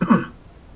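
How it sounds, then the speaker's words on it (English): A single short, wet cough that clears mucus from the throat, fairly close and loud, fading quickly into quiet room tone with no talking. "That's a mucus clearing cough."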